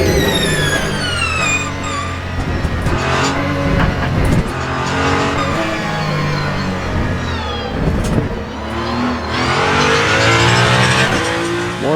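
Ferrari 499P hypercar in the Le Mans Ultimate racing game, its engine roaring loudly and continuously with rising and falling revs and a wheezing note as the throttle lifts, tires squealing at moments.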